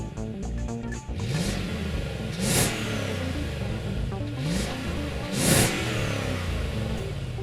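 A 2014 Lexus GX 460 SUV's 4.6-liter V8 engine revs up repeatedly, rising in pitch in waves, loud and steady with a deep rumble throughout.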